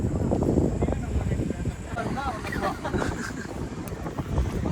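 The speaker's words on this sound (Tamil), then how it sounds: "மாடியில் தானே செம்ம காத்து." Strong wind gusting across a rooftop terrace in Coimbatore, a steady loud rumbling buffet on the microphone that continues throughout, while people talk nearby.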